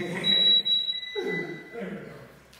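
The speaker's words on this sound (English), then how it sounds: "Can you guys hear the timer?" A workout timer beeps as a steady high electronic tone in a fitness studio, running under an instructor's talk and then fading out.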